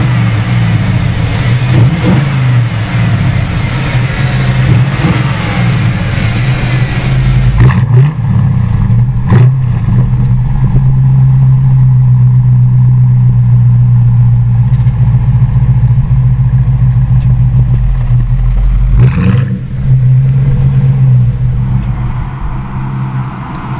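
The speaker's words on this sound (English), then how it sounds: "Alright, Aubrey, let's go for a ride in this Terraplane." A 1937 Hudson Terraplane street rod runs with a loud, steady engine rumble up close, rising in brief revs a few times before settling back.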